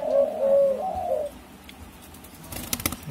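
Emerald doves give a few low, soft coos close by in the first second or so, then fall quiet, leaving faint background noise and some light rustling near the end.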